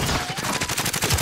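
Rapid automatic gunfire in a video game shootout, a dense, steady burst of rattling shots that stays loud and close throughout.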